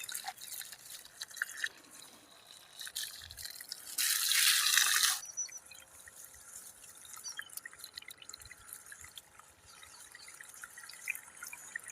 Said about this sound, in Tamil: பைப் எடுத்து போட்டு செடிகளுக்கு அப்படியே ஜில்லுன்னு நல்லா தண்ணி விட ஆரம்பிச்சாச்சுங்க